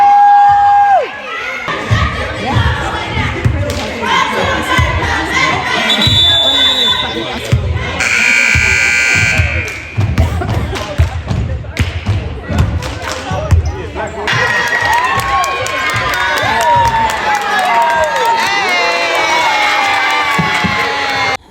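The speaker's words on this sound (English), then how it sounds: "I'm starting out this vlog at one of my daughter's cheer games" Loud crowd cheering fills a gym at a children's cheerleading game, with children shouting, bouncing thuds and a buzzer-like tone, steady throughout and swelling into brighter shrieks near the end.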